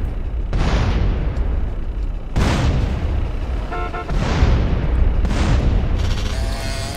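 A bomb blows up a car in GTA San Andreas, with several heavy booming explosions in succession, each loud and close with a long decaying rumble, and no talking.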